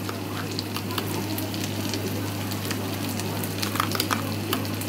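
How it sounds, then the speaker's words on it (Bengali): A blended paste of cashews, almonds and raisins fries in a pan for a fish korma, giving a continuous close sizzle with small crackles and occasional stirring scrapes. "এবার আমি দিব হচ্ছে কাজু বাদাম, কাঠবাদাম আর কিচমিচ ব্লেন্ড করা"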